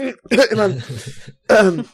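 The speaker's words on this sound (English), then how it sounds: "Sorry. Got a cough." A man coughs and clears his throat close to the microphone, two rough bursts separated by a short pause.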